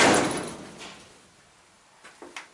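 A manually operated freight elevator door in a building heading down toward a basement, giving a loud metallic opening clatter that fades away, then a few short clunks and knocks near the end, with no talk.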